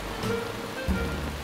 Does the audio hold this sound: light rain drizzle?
yes